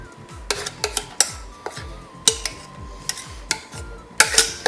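Bread pudding mixture goes into a steel vessel for a no-egg, no-oven caramel bread pudding, with a string of sharp metallic clinks and scrapes of a utensil against the pot at an uneven rhythm, close by.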